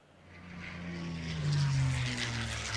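Propeller-driven warplanes in a Stalingrad war video game drone steadily, swelling slightly in the middle as they pass over a low rumbling battlefield, with no talk.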